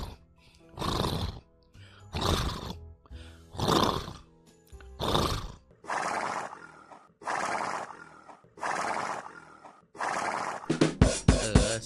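A human voice imitates a horse whinnying, giving about eight drawn-out neighs in a steady rhythm, then a quick flurry of shorter ones, close and clear with no other sound.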